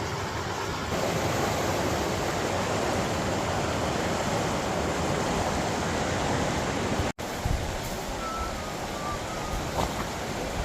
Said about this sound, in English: Rapids sound great.